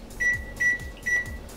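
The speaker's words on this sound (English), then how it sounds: "put the cup and all of its mixed contents into the microwave" A microwave oven runs while an omelette cooks in a cup, giving a steady low hum with faint tonal whines that pulse in a regular rhythm.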